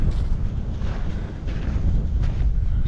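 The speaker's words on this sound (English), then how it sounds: "I gotta get out of the wind here." Strong outdoor wind buffets the microphone in a valley, a loud, steady low rumble with gusty swells that covers the whole stretch, with no voices.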